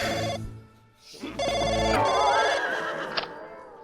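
A telephone rings nearby in two loud electronic bursts separated by a pause, overlapped by a wavering, whinny-like sweep toward the end.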